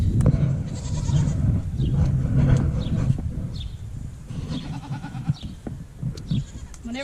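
An older female goat bleats against a busy, noisy background, with several wavering cries scattered through the stretch.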